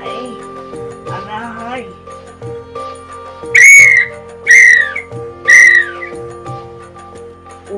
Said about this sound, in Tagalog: Gumamit ng pito upang mas madaling marinig at makita ng mga